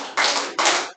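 A church congregation at a Wednesday worship service claps with their palms, making two loud, dense bursts of many hands striking together, each ringing briefly in the hall before stopping.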